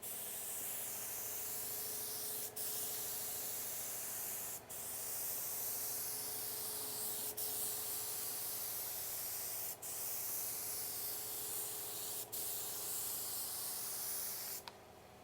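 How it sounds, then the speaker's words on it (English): A spray gun lays clear coat onto a Pontiac GTO, a steady loud airy hiss broken by brief pauses roughly every few seconds, with no talking. "Nothing like repainting your car the night before a car show"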